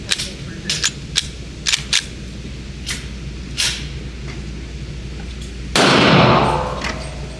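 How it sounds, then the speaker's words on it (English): Several sharp, loud pistol shots from a Glock 32 fired left-handed crack out in an irregular series, each trailing a short echo, with a longer, louder burst near the end. "I want to see if I can shoot the pistol with my left hand."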